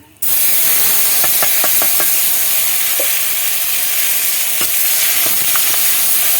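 Steady loud sizzling of onion and garlic paste frying in a hot pan, with occasional spoon scrapes and clicks against the pan, no voices.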